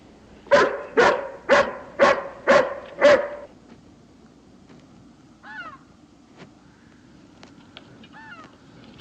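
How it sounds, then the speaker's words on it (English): A hound barks six times in a quick, even series up close, followed by faint scattered caws and distant bird calls against a quiet outdoor background in a western setting. "Can't you temper this hound some?"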